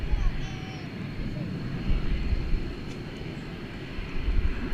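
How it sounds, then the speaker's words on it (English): An American Airlines Boeing 777 lifts off from DFW Airport bound for London Heathrow, giving a steady, broad, rumbling engine roar that holds throughout and swells slightly near the end. "777 which just lifted off for London Heathrow"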